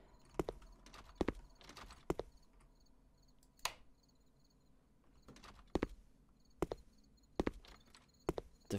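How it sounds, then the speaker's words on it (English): Heavy, sharp footsteps thud in irregular bursts inside a house in the Momo horror game, fairly loud against a quiet background with a faint insect-like hum. "The footsteps are so loud."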